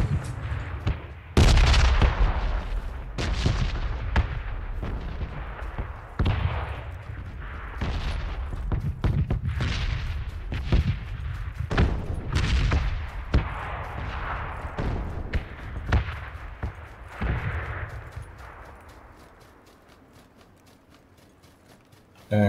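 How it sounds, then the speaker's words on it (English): A light machine gun in PlayerUnknown's Battlegrounds fires a long, uneven run of sharp shots and bursts over about twenty seconds before the shooting fades to quiet at the end. "it is a light machine gun"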